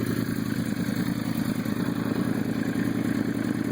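A 2012 Yamaha R1 Raven motorcycle fitted with a Two Brothers slip-on exhaust runs with a deep, steady, throaty burble, heard close up at a constant loud level, with some high whine over the low tone.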